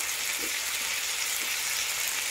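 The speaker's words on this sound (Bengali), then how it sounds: "মশলা একদম ভালো করে কষিয়ে নেব।" Spices being fried in a pan for pea ghugni, with ginger paste, chili powder, cumin-coriander powder, turmeric and salt, give a steady, even sizzle throughout with no talk.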